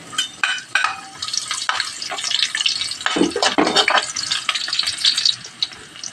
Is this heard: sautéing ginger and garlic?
yes